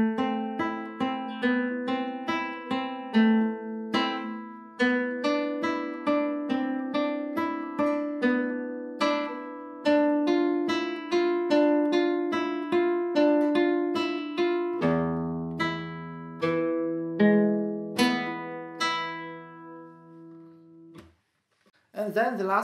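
Plucked nylon-string flamenco guitar plays a flowing soleá arpeggio phrase of steady broken chords, ending on a held strum that rings out before a brief final pluck.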